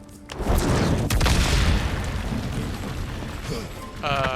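A heavy boom from an explosion in God of War Ragnarok lands early and rolls into a long rumbling decay with debris, followed by a brief ringing tone at the end.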